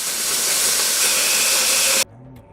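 A steam engine lets out a loud, continuous hiss of escaping steam close by, which cuts off abruptly near the end, leaving a faint low rumble.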